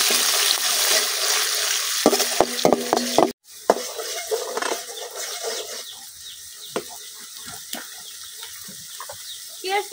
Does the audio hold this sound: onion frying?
yes